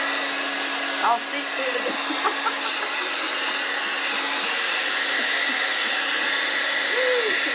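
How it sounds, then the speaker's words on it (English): A blower pushes a steady broadband rush of air across a craft table, clearing debris in a continuous roar with brief bumps, while a voice speaks faintly under it. "I'm blowing everything off my table."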